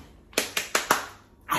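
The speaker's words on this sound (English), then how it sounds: "I said let's clap hands for you guys" Four crisp hand claps ring out close and clear at an even pace in a quiet room, followed by a short pause and the start of another sound.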